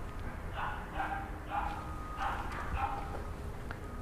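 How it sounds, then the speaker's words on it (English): Excited dogs bark outdoors nearby, a series of short muffled woofs in uneven bursts heard at moderate distance over low steady background noise, with no talking. "Sorry if the dogs are barking, if that's coming through."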